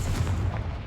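A Confringo fire spell from the Hogwarts Legacy video game erupts as a short, loud, close booming blast that fills the whole moment, with no other sounds around it.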